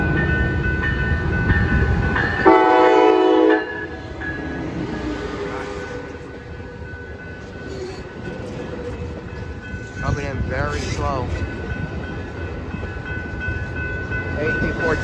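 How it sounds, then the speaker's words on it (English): An Amtrak Capitol Corridor passenger train rumbles past nearby at Santa Clara, California, with a brief horn blast near the start and a steady roar of rolling wheels that fades and swells. "here comes Capital Corridor train 529"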